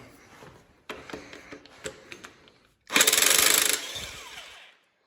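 An impact gun undoing exhaust manifold bolts on a Nissan 300zx, with a few close clicks and taps first, then a loud, dense hammering rattle lasting under a second that trails off into quiet.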